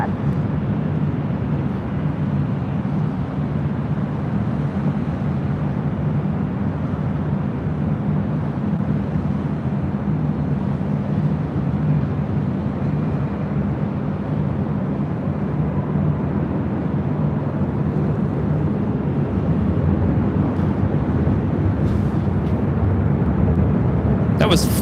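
A Southwest Airlines Airbus A319 jet arriving on runway 24 left at LAX, a continuous broad engine roar rising slightly toward the end, with voices talking over it.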